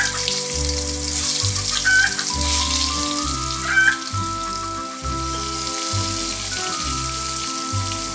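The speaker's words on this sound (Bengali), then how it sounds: "মাছগুলিকে আমি লাল লাল করে ভেজে নিয়েছি।" Sea fish frying in hot mustard oil with a pinch of five-spice in a kadai, giving a steady, close crackling sizzle throughout with a repeating low hum beneath and no talking.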